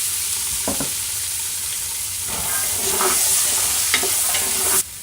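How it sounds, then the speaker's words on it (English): Carrots and onions sizzle steadily in bacon fat in a soup pot, a close, continuous frying hiss with a few brief stirring clinks and scrapes, with no talking over it. "There's that nice sizzle we want to hear."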